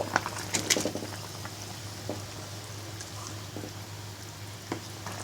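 A pot of bean and potato curry simmers quietly, giving faint, scattered bubbling and soft popping over a low steady hum, with no voices.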